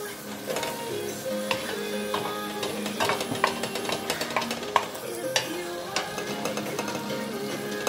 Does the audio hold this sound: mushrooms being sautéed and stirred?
yes